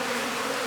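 A dense, steady buzzing hum of many honeybees close by at a hive, continuous and without pauses.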